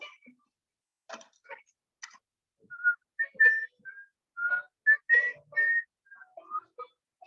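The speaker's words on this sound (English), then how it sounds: "Sorry, whistling." Soft, close whistling of short, wandering melodic notes, interrupted by a few faint clicks and taps, with no talking.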